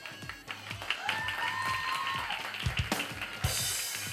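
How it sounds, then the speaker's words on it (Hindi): On a television game show set, the studio audience claps in a loose, uneven patter, with sharper individual claps standing out, a tonal electronic sweep briefly sounding over it, and a brighter burst of applause toward the end. "बाकी सब तालियां बजा रहे हैं"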